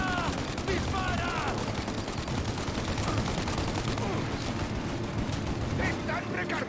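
Dense rapid gunfire keeps up for several seconds during a turret fight in Mafia Definitive Edition, with shouted voices over the shooting.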